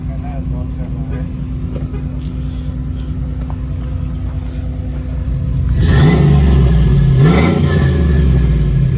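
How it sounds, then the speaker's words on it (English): A truck with a swapped 5.3 engine idling with a steady low drone, then revving hard about two-thirds through with rising and falling engine surges, close and loud, as a person talks over it. "So it revs up pretty good"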